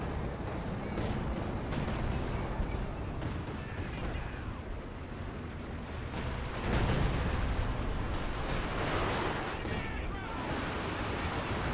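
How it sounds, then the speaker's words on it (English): Heavy artillery fire rumbles continuously through a Company of Heroes battle, deep booms and blasts rolling one after another in a dense, fairly distant wall of explosions. "And more artillery."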